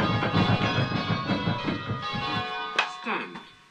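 A single church bell in a bell-ringing simulator strikes and rings out with a shimmering, sustained tone that slowly decays, followed by a fainter second strike near the end.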